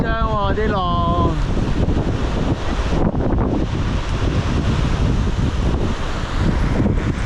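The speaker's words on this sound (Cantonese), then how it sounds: "唔怪咁鬼大風啦" Strong wind buffets the microphone on a Korean coast during a long-distance cycling ride, with big ocean waves surging underneath in a constant roar. A voice briefly exclaims at the start.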